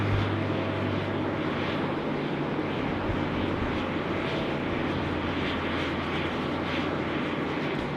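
A Qantas airliner at Sydney Airport gives a steady, continuous engine roar with a low hum underneath, holding an even level throughout at moderate distance with no voices.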